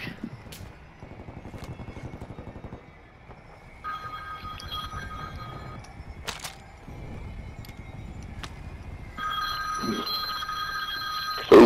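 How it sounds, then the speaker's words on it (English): A Hello Moto phone ringtone sounds in bursts of bright electronic tones during an online Call of Duty Modern Warfare 3 Resurgence match, over a constant low game rumble and engine drone. "Whose phone's ringing, goddammit?"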